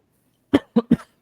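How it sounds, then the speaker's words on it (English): A person clears their throat in three quick, gruff bursts, close and fairly loud, after a moment of silence. "it's a very bad time to have to clear my throat there"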